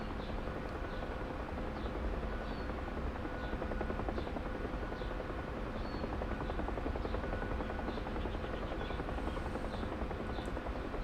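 A Bell UH-1 Huey helicopter in DCS hovers and taxis with a steady, loud rotor thump and a droning turbine whine that holds constant throughout, with no talk over it.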